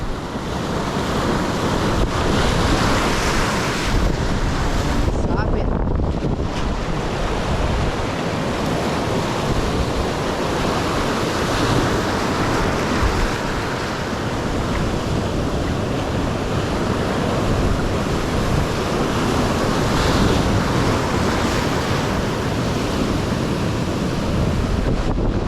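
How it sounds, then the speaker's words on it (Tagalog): Strong sea wind blows steadily at a shoreline, a loud continuous roar mixed with crashing surf and wind buffeting the microphone, with no voices. "Hangin kasi."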